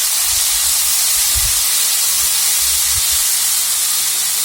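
Chopped tomato sizzling in a hot pan for mushroom gravy, a steady close hiss with no talk over it.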